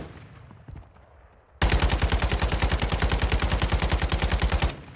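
Gunfire in the video game DMZ: after a quieter stretch, a loud, rapid automatic burst breaks out and hammers steadily for about three seconds before cutting off.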